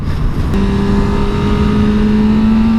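A sportbike engine, Suzuki GSX-R600 or Yamaha MT-07, holds a high, steady whine at about 7,000 rpm, loud and close, with a pitch that climbs slightly and no talking.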